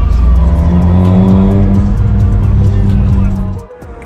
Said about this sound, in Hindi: भाई बहुत ज्यादा ट्रैफिक है आज, बहुत ज्यादा, हद से ज्यादा ट्रैफिक है.